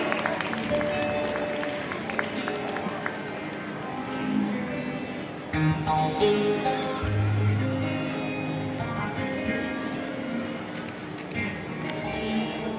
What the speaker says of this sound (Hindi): जोरदार तालियां इनके सम्मान में